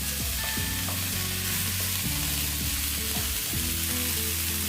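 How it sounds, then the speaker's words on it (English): Soya granules tip into a hot frying pan for a vegan shammi kebab, giving a steady loud sizzle with stirring and scraping through it, no talk. "we are going to add our soya granules"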